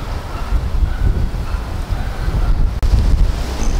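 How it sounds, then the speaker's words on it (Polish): Strong wind blowing at a riverside, buffeting the microphone with loud, gusty rumbling that rises and dips, one brief lull near the end, no speech. "bo tu za bardzo wieje"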